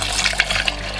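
Beef stock, 500 ml, poured into a Lancashire hotpot pot, giving a steady close liquid splash and gurgle across one second with no talk.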